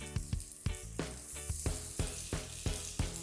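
Beef sizzling in hot oil in a pan after broccoli: steady crackling fry with sharp periodic clanks and scrapes of stirring or flipping, close and fairly soft, no voices.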